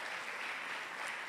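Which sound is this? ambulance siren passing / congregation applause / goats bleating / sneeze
congregation applause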